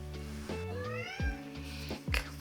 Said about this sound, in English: If y'all hear the kitty cat,